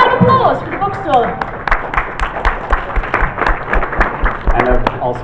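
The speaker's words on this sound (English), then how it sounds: "A round of applause for the bookstore." Audience at a live fanfic-writing panel at Bronycon 2019 breaks into applause for the bookstore: dense, steady clapping from a crowd, fairly loud, with voices and cheers mixed in near the start.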